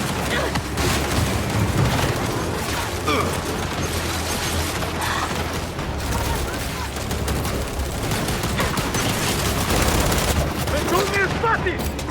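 Turret gunfire in the Gears 5 video game roars as a dense, continuous barrage of shots and booms, loud and unbroken throughout, with faint shouted voices mixed underneath.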